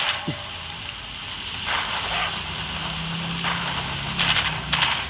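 Steady rain hisses throughout a scene in the video game Into the Dead 2, with a few brighter splashing bursts near the end and a faint low hum underneath.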